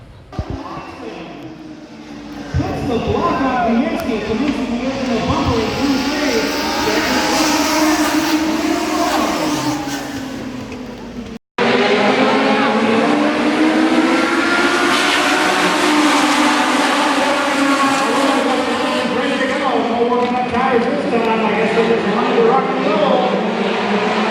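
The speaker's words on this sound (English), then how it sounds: "Number 20 car is running out front, followed by number 23." Race cars roar around a dirt track during a night race at the Acres, a continuous loud engine drone that swells and wavers as the cars circle, broken once by a sharp cut before the din resumes.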